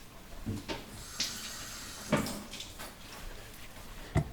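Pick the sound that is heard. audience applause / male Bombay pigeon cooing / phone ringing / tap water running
tap water running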